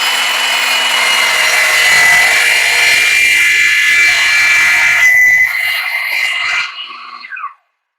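A chop saw miter-cuts the corners of an oak board, a loud steady buzzing whine of the blade biting through the wood for several seconds before winding down and cutting off abruptly.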